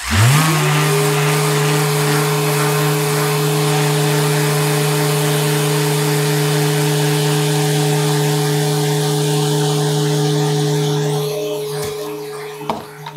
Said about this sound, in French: Donc là c'est un pas de 100, et je vais poncer un petit peu partout